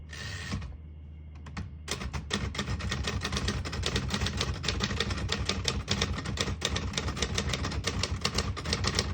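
Rapid, steady clacking of a 1959 Royal Heritage portable typewriter's keys, close and loud, with a brief mechanical pause near the start before the continuous typing rhythm resumes.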